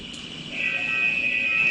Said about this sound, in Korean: 센서의 작동 시 신호를 현시해줄 수 있는 부저와 신호 등